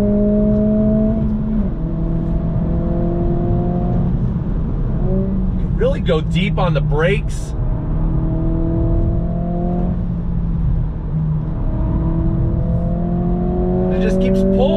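A 2023 Acura Integra, front-wheel drive, pulls hard toward redline; its engine note climbs steadily in two long sweeps, with a brief lift between, while someone talks over it from inside the cabin.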